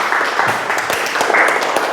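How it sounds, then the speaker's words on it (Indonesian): A seminar audience claps for a speaker, a loud, close burst of applause with distinct individual claps audible within the steady clatter over two seconds. "tepuk tangan untuk Mas Afrizal"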